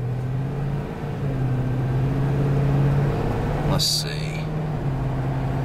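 A car with a worn front wheel bearing hub rolls along the road, giving a steady low droning hum with a faint whir over it. A voice speaks briefly partway through.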